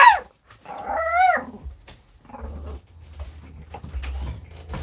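An old chihuahua barks and yips in a home, a few sharp, close calls with a whining pitch rise, followed by softer scattered yelps and low background rumble.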